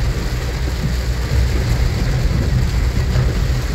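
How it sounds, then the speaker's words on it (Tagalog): Continuous heavy rain after hours of steady downpour, a loud dense unbroken hiss with low rumbling underneath, steady throughout with no voices. "Ulan lang, tuloy-tuloy."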